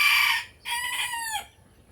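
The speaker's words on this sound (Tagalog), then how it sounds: "Yan po yung aking bantam." A bantam rooster crows nearby, a loud broken cock-a-doodle-doo in two bursts with a short gap between them and no other sound.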